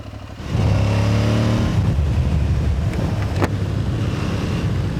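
An Aprilia Tuareg 660 motorcycle engine on a test ride, rising into a steady, loud drone with wind rushing past, then easing slightly as if engine braking.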